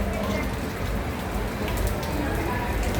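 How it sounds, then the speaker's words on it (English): Heavy rain pours steadily onto a city street at night in the Philippines, a dense, constant hiss and patter that stays loud and close throughout. "Too much rain. It's the rainy season."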